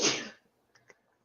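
A single sharp sneeze bursts out at the start, then fades into near silence with a couple of faint small noises after.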